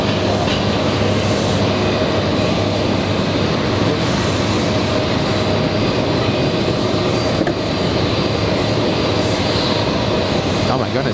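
A FedEx MD-11 trijet lands at JFK, its engines giving a steady, loud jet roar that holds evenly throughout, with people talking nearby.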